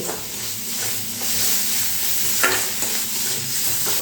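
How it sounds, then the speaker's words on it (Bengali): Onion with ginger-garlic paste, salt and turmeric sautés in a pan for potato chops, producing a loud steady sizzle with repeated spatula stirring and scraping up close. "এবারে সব কিছু মিশিয়ে এই পেঁয়াজ আর আদা রসুন বাটা আবার একটু ভালো করে কষিয়ে নিতে হবে"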